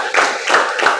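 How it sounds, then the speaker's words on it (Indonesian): Three quick bursts of group clapping from a classroom audience playing a clapping game, loud and close, evenly spaced with brief pauses between them. "tepuk tangan untuk kita semua"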